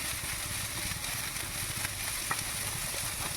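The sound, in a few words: stir-frying carrot and cabbage for chow mein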